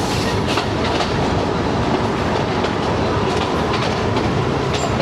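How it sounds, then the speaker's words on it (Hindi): Passenger train on the Lasani Express running steadily with loud, continuous rumble and rhythmic clickety-clack of wheels on rails, close and alone with no talk. "यहाँ पे अब ट्रेन को रोकेंगे ताकि ये लोग सवार हो सकें"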